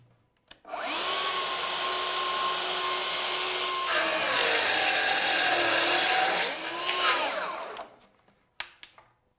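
A Festool HK 55 handheld circular saw on a crosscut rail rips a thin strip off a floorboard, a loud steady whine that rises sharply mid-cut, then spins down and stops, followed by a few faint knocks.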